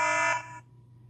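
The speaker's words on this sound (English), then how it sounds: "It will sound an alarm." A Hikvision Ax Pro house alarm kit sounds a loud, steady electronic siren tone for about half a second, then cuts off abruptly, leaving a faint hum.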